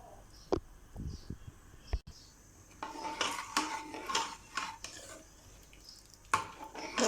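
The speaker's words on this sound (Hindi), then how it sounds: "अब मैं इसको शामिल कर दूंगी मसर के अंदर। और मैं मिक्सिंग कर लूँगी इसकी।" A spoon stirs fried, browned ingredients into masoor daal in a metal pot, giving several sharp clinks and scrapes against the pot followed by a stretch of wet stirring and clattering, close and moderately loud.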